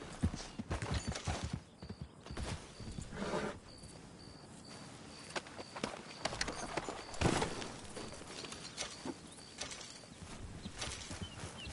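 Horse hooves clip-clop in Red Dead Redemption II, an irregular rhythm with scattered thuds and clicks, a faint steady tone running beneath.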